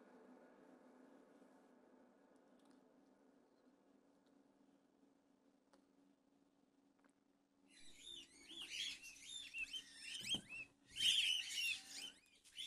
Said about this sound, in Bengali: বলা চলে এটা ছোট গায়ক পাখি